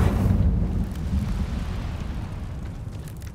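A burst of fire conjured by the Incendio spell in the Hogwarts Legacy video game, sounding as a loud, low whooshing roar that swells at onset and then slowly fades away.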